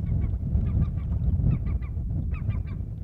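Wild birds call repeatedly overhead in a boreal forest wilderness by a lake, a run of harsh, honking, laughing cries in quick bursts over a steady background rumble, loud and fairly close.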